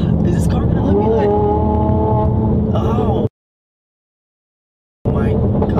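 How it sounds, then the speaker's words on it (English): Loud car exhaust drones steadily while driving, with engine tones rising and falling, then a sudden cutout of about two seconds before the exhaust returns. "The exhaust is a little bit too loud."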